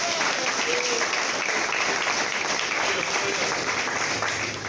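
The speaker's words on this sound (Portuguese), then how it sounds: "dê uma linda salva de palmas para o Senhor Jesus Cristo, porque Ele merece" A church congregation claps for Jesus Christ during a sermon, a steady, even wash of applause that holds for several seconds, with faint voices underneath.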